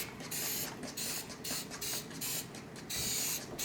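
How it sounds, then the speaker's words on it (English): Cooking spray hisses onto a muffin pan in a run of short bursts, several quick sprays with brief pauses between them, close and fairly quiet. "I'm just gonna spray them."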